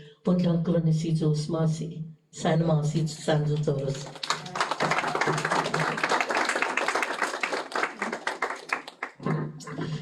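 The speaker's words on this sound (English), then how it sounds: "One more time, a round of applause, please" Audience applause at a Guam conservation corps launch event breaks out as a dense, fairly loud patter in the middle stretch, with a person talking before it and again as it fades.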